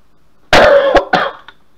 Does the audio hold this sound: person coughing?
yes